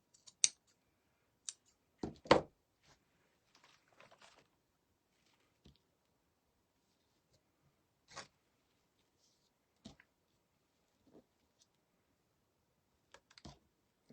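Scissors cutting strips of material, sparse quiet snips and clicks spaced a second or more apart in an otherwise silent room.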